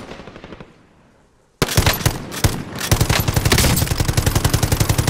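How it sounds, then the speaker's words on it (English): Rapid automatic gunfire in Call of Duty: Modern Warfare, starting abruptly after a quiet stretch as loud, close bursts and then a steady fast rattle of shots, with no talk over it. "Yeah, I think he's shooting at me."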